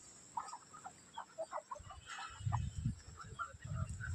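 Free-range chickens and a rooster on a poultry farm cluck in short scattered bursts, with low rustling and ground movement growing louder partway through; no one speaks.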